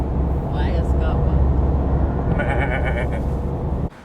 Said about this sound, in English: how about some sheep?